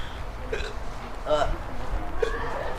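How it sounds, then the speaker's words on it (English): Three short, sharp hiccups come at roughly even intervals, each a quick voiced catch, heard close by outdoors near a vegetarian restaurant on a chilly day. "Oh, you got the hiccups?"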